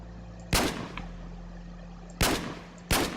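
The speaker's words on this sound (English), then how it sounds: "This gun is a semi-automatic only gun" Three loud, sharp shots from a semi-automatic gun in the Minecraft Flans Mod, fired singly over a steady low hum, with a long pause after the first and a quick pair at the end.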